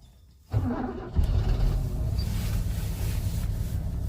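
Mercedes W126 500 SE V8 catches after a brief crank on a cold start, jumping to a loud, steady idle that holds close and rumbling with no talk over it.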